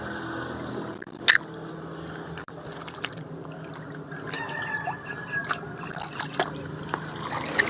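Water trickles and splashes intermittently as palm seeds are soaked, with faint, irregular dribbles and drips over a quiet outdoor background.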